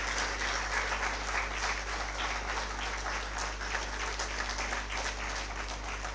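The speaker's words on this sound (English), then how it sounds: "Do welcome her with a round of applause" Applause welcoming a chief guest at an awards event in Chennai, an even, moderately distant patter of many hands clapping, steady for several seconds under a faint hum.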